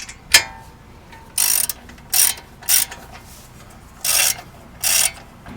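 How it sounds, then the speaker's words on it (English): A new castle nut is spun on by ratchet onto Subaru suspension parts, giving short bursts of rapid clicking, five or six quick runs with pauses between, close and clear. "And now we'll spin our new one on. Install your new castle nut."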